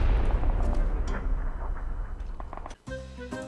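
Gunfire in the video game PUBG, a dense rumbling barrage of booming shots and blasts that fades, followed by a brief tonal in-game sound at the end.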